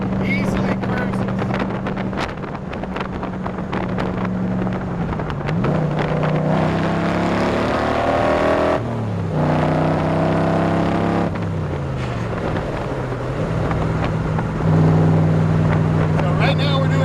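2015 Shelby Cobra Factory 5 cruising at speed in fifth gear, a continuous engine drone with wind rush and shifting pitch as revs rise and fall, loud and close throughout.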